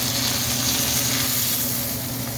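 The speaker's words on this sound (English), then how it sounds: "that's why I'm kind of searing it right onto this bone" A bone-in steak sears in a hot pan, giving a loud, dense, unbroken sizzle with a steady hissing roar and rumbling undertone, close and constant throughout.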